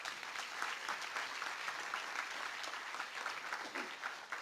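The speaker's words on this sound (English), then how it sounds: "Let's give the students another round of applause." An audience at a 2018 Founders award ceremony for students fills the room with steady, dense applause. It sounds distant and even, with no speech on top.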